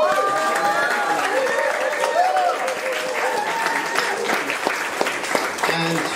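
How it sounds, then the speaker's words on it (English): Audience at a small live concert gives a sustained round of applause, steady dense clapping with some crowd noise and faint voices throughout. "Can we have a big round of applause?"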